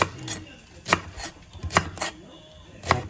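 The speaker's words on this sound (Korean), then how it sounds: "파는 작게 썰어주세요" A knife chops green onion on a cutting board in a home kitchen, several sharp, separate strikes at an uneven pace, close and fairly loud, with quiet gaps between them.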